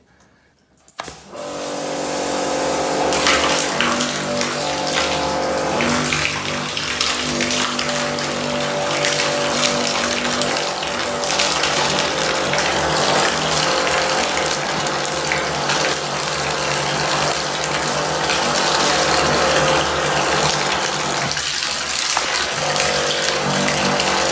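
A drain cleaning machine's loud, steady mechanical roar with a watery rushing, running continuously after a brief quiet start, with no talking.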